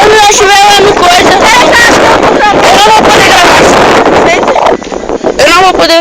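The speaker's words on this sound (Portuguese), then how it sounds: "Ventando monstro aqui." Strong wind roars and buffets the microphone nonstop, with a voice talking loudly over the gusts.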